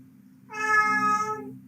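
A cat lets out a single drawn-out meow, close and clear, rising then falling over about a second against a low steady fireplace hum in a quiet room.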